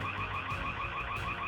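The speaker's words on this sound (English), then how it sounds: "the alarm system springs to life" A home alarm system blaring outside a house at night, a loud electronic warning tone pulsing in a steady repeating cycle, caught by a doorbell camera.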